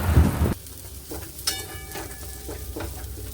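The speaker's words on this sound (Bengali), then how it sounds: "পুরটাকে একবার ভেজে নেব কড়াতে" A filling of carrot, potato, peanut and green chilli frying in a wok over low gas gives a soft sizzle, with a louder stir or scrape at the start and a few light spoon clatters after.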